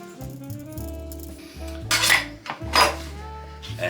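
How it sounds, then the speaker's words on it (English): Sausages (bangers) being stabbed a few times on a plate: clattering dish and cutlery knocks with a couple of sharper metallic clinks, close and fairly loud, with no talking. "So all I'm going to do with these is just stab them a few times"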